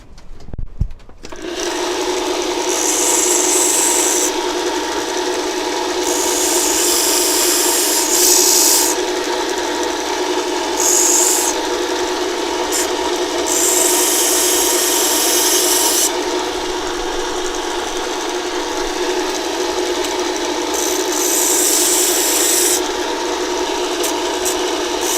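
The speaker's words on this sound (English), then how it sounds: "So to the belt sander." A belt sander rounds the edges of a wooden whale tail bangle, its motor whirring steadily while the wood is pressed against the belt in repeated bursts of rasping abrasion, close and loud for about twenty seconds.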